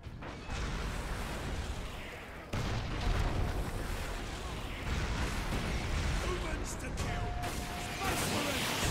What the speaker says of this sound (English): Oh, I threw a grenade.